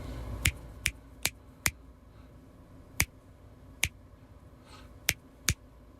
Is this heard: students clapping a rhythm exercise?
yes